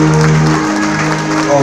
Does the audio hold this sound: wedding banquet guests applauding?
yes